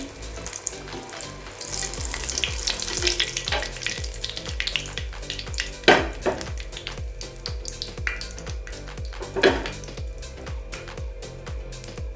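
Thenga muri, a Malabar coconut snack, frying in oil until brown: a steady close bubbling sizzle with scattered crackles and a few sharp pops or scrapes, no talk.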